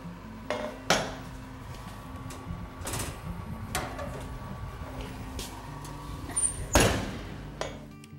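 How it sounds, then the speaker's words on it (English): Kitchen clatter as a tray of donuts is pulled from a home oven: sharp metallic clanks and knocks of pan and oven rack at irregular intervals, close and fairly loud, with soft background rumble between them. "So I'm gonna pull these right out of the oven."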